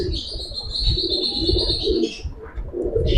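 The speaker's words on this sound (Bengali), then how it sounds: "এটা মাদি কবুতর এটা আমি উড়াইছি" Giribaz pigeons in a loft give soft, close cooing calls in a continuous burst, with a few faint chirps mixed in.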